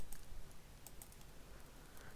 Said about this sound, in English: By pressing end button on your keyboard, you'll move right to the end.